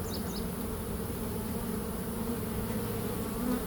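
Mated queen bees held in queen cages without attendants, giving a steady, continuous insect buzz that sits close and fairly loud throughout, with no voices.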